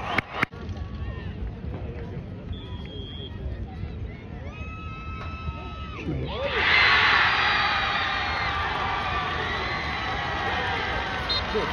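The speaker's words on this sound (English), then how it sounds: "Obviously, you're hearing them cheering." Crowd cheering and shouting in the distance at a penalty kick on another field during a state championship soccer game, rising into a sustained roar in the second half, with talk over the top.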